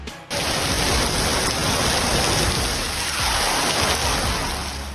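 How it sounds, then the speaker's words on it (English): Heavy rain pours steadily onto a road, a dense, loud, continuous hiss of water that starts abruptly and holds at full strength with no voices. "One side of the road is pouring with rain, while the other side remains completely dry."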